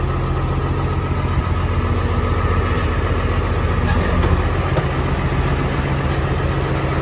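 A farm tractor engine idles steadily and close by, a continuous low rumble with a mid-range chug and faint clanks throughout, heard outdoors at a steam and gas show.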